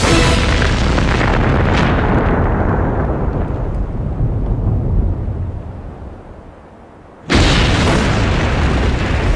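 A massive explosion roars at full loudness, rumbling on for seconds and fading, before a second sudden blast cuts in just as loud.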